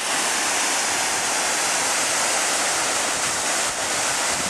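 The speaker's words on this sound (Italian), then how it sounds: "questa è la cascata della culebra" Steady roaring rush of the Culebra waterfall near Caviahue, Argentina, loud and continuous broadband water noise filling the whole clip with no voices.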